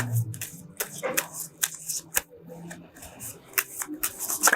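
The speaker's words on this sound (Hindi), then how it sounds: "कार्ड्स हमारे शफल हो रहे हैं" Tarot cards shuffled by hand in a steady run of crisp riffling slaps and flicks, close and fairly loud, with faint low murmuring underneath.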